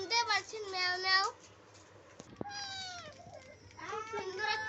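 A young kitten meows in a series of high, wavering cries, with a cluster at the start, a sharper call in the middle and more at the end, close and fairly loud against quiet indoor background.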